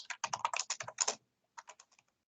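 Rapid typing on a computer keyboard while writing code: a quick burst of about a dozen close key clicks, a short pause, then a few more keystrokes, with no talking.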